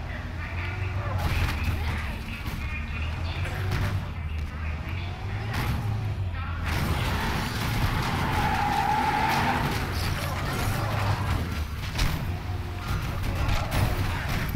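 A hearse driven in Dead Rising 3 rumbles steadily with engine drone and tire skids, a sustained vehicle roar with brief squeals, while a person talks throughout.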